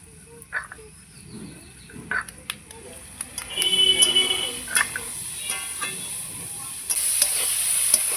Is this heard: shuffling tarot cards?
no